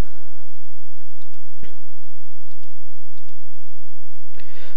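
A computer mouse clicking while changing the home page in Firefox settings: a few sharp, isolated clicks, spaced seconds apart, close and crisp over a quiet background hiss.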